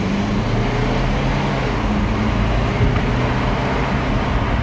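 A BMW X4 on the move gives a steady, loud, unbroken drone of engine, turbo and road rumble from inside the car.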